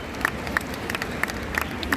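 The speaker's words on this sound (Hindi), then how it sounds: "जोरदार तालियां हो जाएं एक बार फिर से" Audience applause at the IFFI opening ceremony in Goa, a sustained crowd clapping with scattered sharper claps standing out, moderately loud and continuous over a hall's background rumble.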